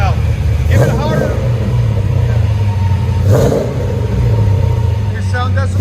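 Cammed LS3 V8 in a 1995 Nissan 240sx, fitted with long tube headers and a Borla Pro XS exhaust, giving two hard, loud revs up close, each settling back to a deep, lumpy idle.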